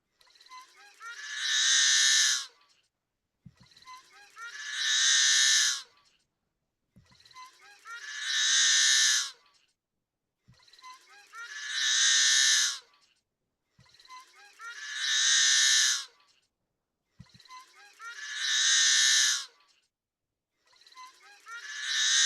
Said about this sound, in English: here are some of the photos and sounds that I took of yellow-headed blackbird